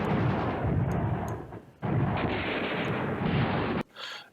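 Artillery fire in the World War II strategy game Command Ops 2 at Arnhem, two long, heavy rumbling barrages one after another, with a shorter boom at the end.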